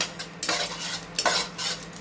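Fennel, fenugreek, mustard seeds and dried red chillies dry roasting in a pan for a tomato pickle spice paste, stirred with a spatula in repeated scraping, rattling sweeps over a faint sizzle, close and moderately loud with no voices.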